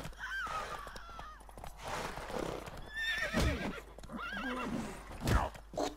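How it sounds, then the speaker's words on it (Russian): A horse in the video game The Witcher 3 whinnies repeatedly, with several shrill, wavering neighs close by mixed with snorts and a couple of heavy hoof thuds, and no one talking. "Вот эта лошадка нахрен бешеная."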